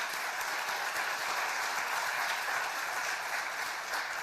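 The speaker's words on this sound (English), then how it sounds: "Let's give them all a round of applause." A crowd at a university flight training center announcement and groundbreaking gives steady, dense applause, even and sustained throughout.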